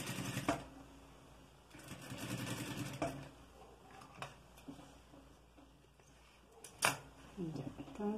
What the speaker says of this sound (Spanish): así vamos a coser